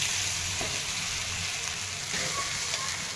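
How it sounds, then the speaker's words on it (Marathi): Soaked poha (flattened rice) frying in a pan with curry leaves, a steady, dense sizzle that holds at an even level throughout, with faint stirring scrapes now and then. "पोहे टाकून घेत आहे आता यामध्ये."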